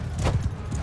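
Horse hooves clopping in the video game Mount & Blade II Bannerlord, a quick run of soft, close thuds lasting under a second over low rumbling battle noise.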